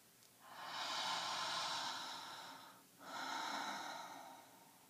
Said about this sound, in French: j'aurais juste envie de rajouter une profonde respiration